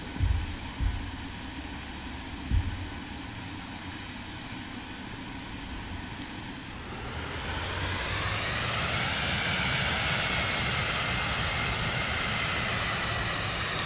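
A Cirrus Vision Jet G2 taxis in Microsoft Flight Simulator 2024, its single jet engine a steady whine that swells into a louder, brighter roar as thrust increases, after a few soft clicks at the start.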